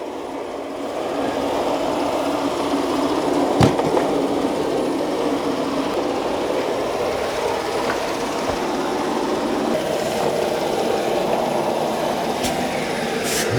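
A Shark ION robot vacuum runs steadily on a floor, crossing from hardwood to carpet, giving a continuous motor hum and brush whir with a few brief knocks, moderately loud and close, with no talking.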